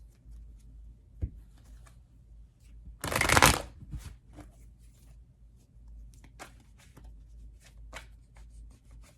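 Tarot cards riffle in one short, loud shuffle near the middle, with soft taps and small handling sounds before and after in a quiet room.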